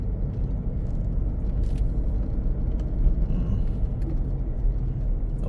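A car descends a steep mountain road near Chiang Rai in low gear, heard from inside as a constant low engine rumble with road noise and occasional small rattles.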